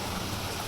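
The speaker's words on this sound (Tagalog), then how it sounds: "Ang lakas sa ulan." Heavy rain pours down in a dense, steady hiss with no breaks, loud and close.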